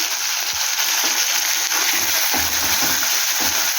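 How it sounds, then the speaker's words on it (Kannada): Chopped tomatoes roasting in an oiled pan for a spinach gravy, a steady loud sizzle and hiss with occasional stirring scrapes and thumps. "ಟೊಮ್ಯಾಟೊ ಒಂದು ಸ್ವಲ್ಪ ಚೆನ್ನಾಗಿ ರೋಸ್ಟ್ ಆಗಲಿ"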